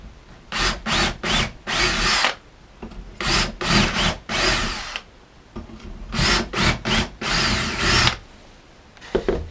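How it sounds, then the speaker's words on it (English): A drill bores into wood in repeated loud bursts, short runs separated by brief pauses, close and whirring. "So I can now drill those three holes."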